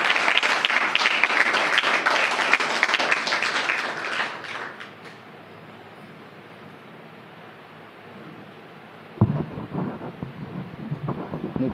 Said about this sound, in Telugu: ఒక్కసారి చప్పట్లు కొట్టి దేవుని నన్ను మహింపరుదా